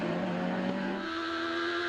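F1000 open-wheel race cars at Phillip Island circuit, heard as a loud, steady high-pitched engine whine with a sustained harmonic drone as the lead pair pulls clear, close and continuous throughout.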